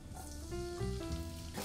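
Crushed garlic cloves sizzle and fry in a little oil in the bottom of a pan, a steady close crackle with brief hissing bursts and no voices.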